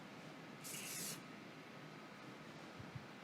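A spray bottle lets out a single short hiss of facial mist lasting about half a second, close and clear against a quiet room.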